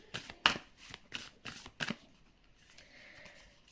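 Tarot cards shuffled and handled at close range in a quiet room, with a series of crisp flicks and slides, then softer faint rustling.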